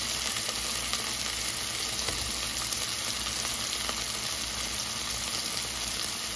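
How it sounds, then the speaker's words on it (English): Pork chops sizzle steadily in a little oil in a skillet, a dense, even hiss holding without a break, close and loud, with no voices over it. "Okay, I'm gonna set it down in the skillet."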